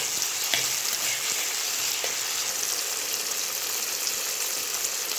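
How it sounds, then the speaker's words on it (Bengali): Constant crackling sizzle of chickpeas frying in a hot pan, close and even, with a faint scrape or two and no voices. "ছোলাগুলিকেও আমরা ভেজে নেব"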